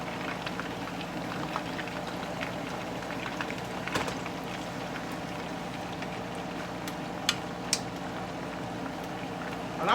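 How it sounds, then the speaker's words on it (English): Korean BBQ ribs fry in a pan over raised heat, giving a steady, dense sizzle like light rain. A few sharp pops of spattering oil stand out near the end, with no voices. "So we're gonna turn it up a little so it can go ahead and fry."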